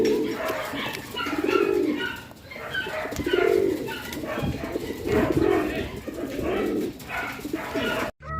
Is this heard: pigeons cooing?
yes